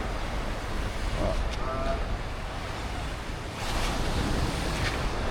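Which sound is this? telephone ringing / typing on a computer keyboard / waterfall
waterfall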